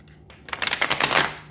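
Tarot cards are shuffled by hand during a reading. A short quiet gap comes first, then a quick, crisp riffle of papery flicks builds and runs close to the microphone.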